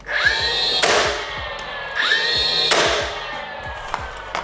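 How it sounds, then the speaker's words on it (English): A power drill drives screws into an interior door frame in two rising whine-and-thud cycles, close and loud, each ending with a sharp clack as the screw seats. "So I'll just drive a few more right in here."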